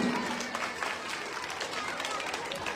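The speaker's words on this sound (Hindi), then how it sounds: "जोरदार ताली बजा दीजिए।" Audience applause at a live staged performance of the Khar-Dushan slaying episode, steady broadband clapping from a crowd that holds at an even level for the whole stretch, with murmured voices mixed into it.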